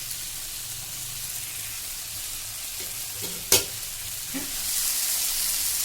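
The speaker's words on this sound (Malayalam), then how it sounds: "വെളിച്ചെണ്ണ ചൂടായിട്ടുള്ള പാനിലേക്ക് ഇട്ട് കൊടുക്കുക" Jackfruit seeds coated in chili masala fry in hot coconut oil, giving a steady close sizzle with a sudden sharp hiss midway as more pieces hit the pan, then a louder, fuller crackle.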